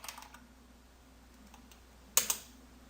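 A command is typed on a computer keyboard while installing the Apache 2 web server on Windows 7: a few sparse, close key clicks, then a louder quick pair of keystrokes near the end, in a quiet room.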